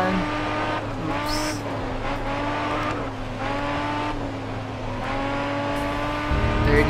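Racing car in Grid Autosport at full throttle, a loud engine note rising and falling through gear changes, with brief tire squeals cutting in near the start and end.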